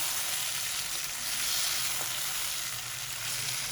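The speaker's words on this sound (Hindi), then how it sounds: "अदरक लहसुन हरी मिर्च के साथ 1 मिनट तक फ्राई करेंगे।" Steady sizzling of ginger, garlic and green chili frying in hot oil in a karahi, close up, with a faint stirring scrape partway through.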